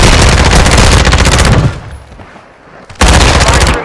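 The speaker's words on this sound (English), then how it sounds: "Taking fire over here!" Dense, loud automatic gunfire from a Call of Duty Resurgence match, rapid rounds rattling for about a second and a half, a brief quieter lull, then another burst of fast shots.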